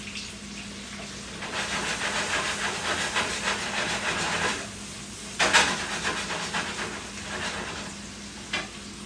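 Oil poured into a hot pan of green beans, mushrooms and onions sets off a loud, steady sizzle and hiss, swelling in bursts with a sharp flare near the middle.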